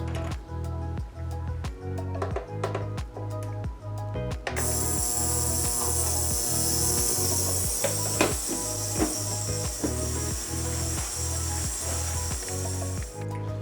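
A brass cleaner tumbling .308 cartridge brass gives a steady mechanical rattle with a regular clicking, ratchet-like beat, running on alone without voices.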